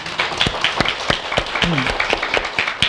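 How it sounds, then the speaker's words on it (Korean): Scattered hand claps from a temple audience during a Buddhist sermon, sharp separate claps in an irregular rhythm, fairly near and moderately loud, with a brief low tonal murmur partway through. "우선에 여러분들이 불자가 됐다는 데 대해서 박수 한번 칩시다."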